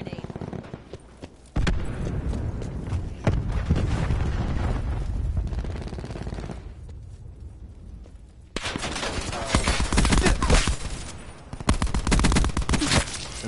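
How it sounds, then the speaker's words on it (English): Cluster grenade blasts in Black Ops 4 erupt as a dense, loud burst of overlapping explosions and crackling gunfire, with sustained heavy combat noise and a short lull before another intense barrage. "Throwing cluster grenade."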